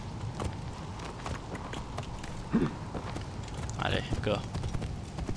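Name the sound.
horse galloping hooves in Assassin's Creed Origins video game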